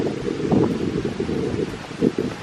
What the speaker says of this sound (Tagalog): Rinig niyo siguro yung hangin, no? Sobrang lakas.